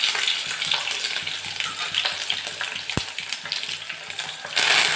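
Garlic and two green chillies hit hot oil already seasoned with mustard seeds and cumin, giving a steady, close crackling sizzle with faint stirring scrapes and one sharp pop midway.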